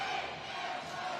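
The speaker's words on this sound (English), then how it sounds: "Listen to the crowd cheering on Team Army." Crowd in the stands at a Warrior Games indoor rowing race cheering on Team Army, a dense, loud, continuous roar of voices filling the space.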